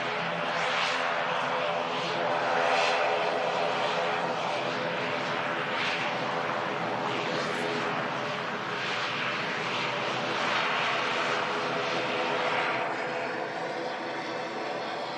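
An Aer Lingus ATR turboprop airliner departs Manchester Airport, its broad steady engine and propeller roar holding loud and continuous throughout.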